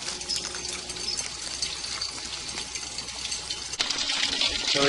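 Water drawn from a drainage pipe runs and splashes steadily through a filter, a close, continuous trickle that grows louder and fuller near the end, with no voices.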